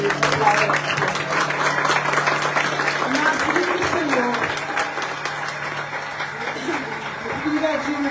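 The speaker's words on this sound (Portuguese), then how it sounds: "Aplauda com toda a força" Worshippers clap hard during a church service, a dense sustained burst of applause with a voice speaking over it and a low steady hum running underneath.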